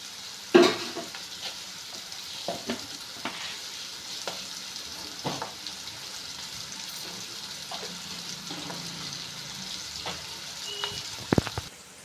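Bitter gourd frying in a pan for a tempered stir-fry, with a steady low sizzle under repeated scraping stirs and a few sharp utensil clicks near the start and end; no voices.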